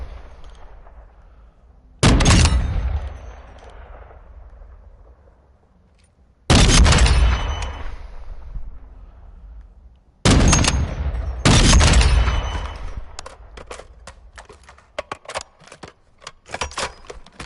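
Sniper rifle in Call of Duty Modern Warfare 2 multiplayer, three loud, sharp shots spaced several seconds apart, each followed by a long echoing tail, then lighter clicks and taps.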